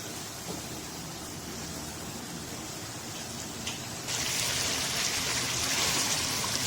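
Chicken pieces frying in a pan for a creamy white chicken gravy give a steady, soft sizzling hiss that grows louder and brighter partway through, with no talking.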